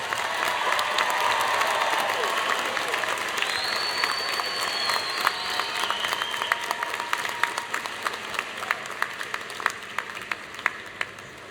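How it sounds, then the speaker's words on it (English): Drexel University commencement crowd applauds graduates in a large hall, a broad sustained wash of clapping that thins into scattered individual claps, with a brief whistle and faint crowd noise. "how about one more round of applause for all of our graduates?"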